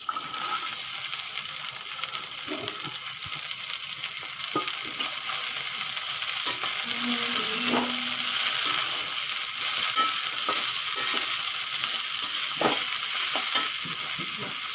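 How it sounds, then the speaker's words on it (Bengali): Cut water spinach greens sizzling in a pan with prawns, potatoes and onions, steady frying hiss with intermittent stirring scrapes and clinks, close and continuous without talk. "আলু চিংড়ি পেঁয়াজের সঙ্গে একটু কষিয়ে নিয়েছি এখন দিয়ে দেব ধুয়ে কেটে রাখা কমলি শাক"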